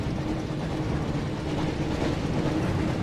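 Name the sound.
train in tunnel, Harry Potter PS1 video game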